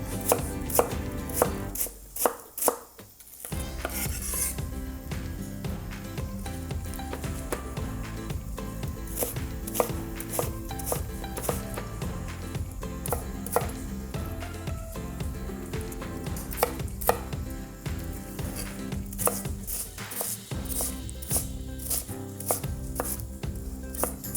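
Steady, rapid knife chopping of cauliflower on a cutting board, continuous and close, with a brief pause early on before the rhythmic chopping resumes.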